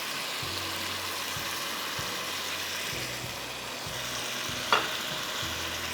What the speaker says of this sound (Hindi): ये मैं प्याज मैंने डाल दी, प्याज और चिकन 5 मिनट, सिर्फ 5 मिनट पकाऊंगी